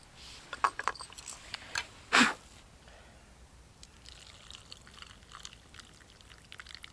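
Tea poured into a cup outdoors in a cold-season survival setting: a few short splashy bursts, then a louder gush of liquid, followed by quieter trickling and faint clinks.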